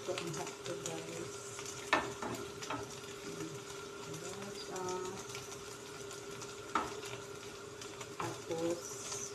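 Hotdogs frying in a pan make a steady, soft sizzle with occasional scraping and clinks of a utensil, heard close and fairly quiet while a person talks intermittently.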